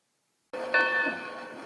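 A Lionel toy train sound effect starts abruptly after a brief silence, a steady mid-loud tone with a bright whistle or bell-like ring near the start that then fades slightly.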